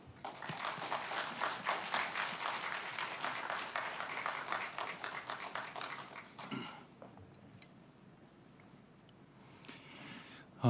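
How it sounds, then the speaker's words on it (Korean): A church congregation at an anniversary revival meeting claps to welcome the preacher, a steady wash of applause that fades after about six seconds into a quieter room with a few scattered sounds. "우리 박수로 우리 환영하고 말씀 듣도록 하겠습니다."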